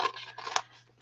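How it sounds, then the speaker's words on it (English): Scissors cut out craft pieces for DIY purse accessories, giving a couple of quick, close snips within about a second. "I'm just going to cut out a couple of things to put on here."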